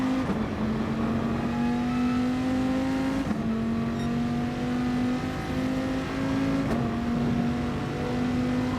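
A Viper race car in a racing game, its engine note holding steady and strong, then rising through two quick gear changes as the car accelerates out of a corner, loud and continuous.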